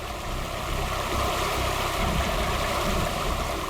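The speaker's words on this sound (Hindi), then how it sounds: "सामने देखो वाटरफॉल कितना सुंदर है ना पायल?" A waterfall pours with a steady, broad rushing roar that holds evenly throughout without voices.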